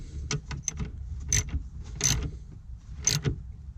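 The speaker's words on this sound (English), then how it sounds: "And we'll tighten that back down again, nice and snug, so we have a nice solid ground connection." A ground connection bolt is tightened on a car during a remote starter bypass install, heard as several crisp ratcheting clicks and metallic turns in short bursts, close and clear with no speech.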